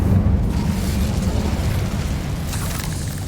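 Incendio fire spell cast in the Hogwarts video game: a loud, sustained roaring burst of flame with a deep rumbling body that fills the whole moment without pause.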